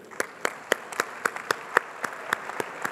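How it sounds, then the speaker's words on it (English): A conference audience at a space agency panel gives applause, but only a few sparse, evenly spaced claps ring out in a quiet room, like one or two people clapping rather than a full crowd. "I ask you to applaud them very strongly."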